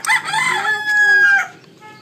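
A rooster crows once, loud and near, a drawn-out cock-a-doodle-doo rising and holding before trailing off.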